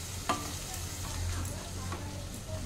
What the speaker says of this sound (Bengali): এটাতে একটু জল দিলাম। এবার এটা ভালো করে আমি কষাবো।